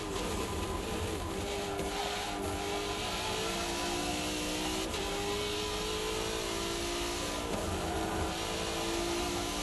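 Turbocharged race car in Forza Motorsport 7 on the Top Gear test track, a continuous engine drone with rising and falling tonal whines as the turbo spools through gear changes, steady and fairly loud throughout.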